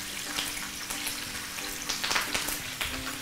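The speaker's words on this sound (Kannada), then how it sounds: "ಈರುಳ್ಳಿ ಸ್ವಲ್ಪ ಜಾಸ್ತಿ ಹುರ್ಕೊಳ್ಬೇಕಾಗತ್ತಾ?" Onion sizzles in hot oil in a tempering for gojju avalakki, a steady crackling fry with scattered sharper pops and spatters, close and without talk.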